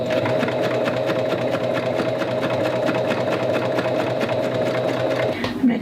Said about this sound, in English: just sewing the fabric in a fold